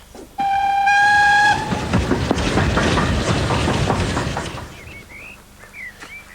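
A steady steam train whistle blasts at the start, then a loud rumbling, clattering passage of the steam train on rails fades away, leaving faint birdsong.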